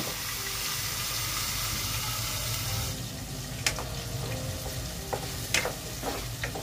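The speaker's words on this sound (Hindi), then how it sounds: "इसकी भुनाई करेंगे" Masala for egg curry roasting in a pan with potato, a soft steady sizzle that thins out midway, followed by a few sharp clinks of a utensil.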